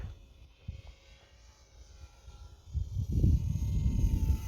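Eachine 400mm T-28 RC model airplane in flight, its small electric motor buzzing faintly at first and then swelling louder and closer over the final second and a half as it passes, with wind noise throughout.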